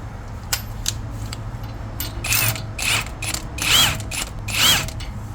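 A hand tool with a thrust bearing draws replacement wheel studs into a hub, ticking and ratcheting in several short clustered bursts, close up against a quiet background.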